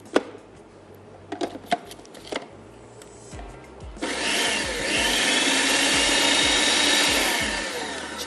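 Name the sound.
chopping boiled spinach with a knife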